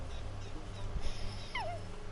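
In the video game Red Dead Redemption 2, a dog gives soft high whimpers and a brief yelping whine near the end, faint over a low game background hum.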